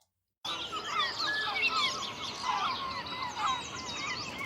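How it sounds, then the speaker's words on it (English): Game ambience for a fishing dock in Dredge, layered chirps and twittering calls from several birds over a soft steady wash, starting abruptly out of silence and heard alone. "here is the dock ambience"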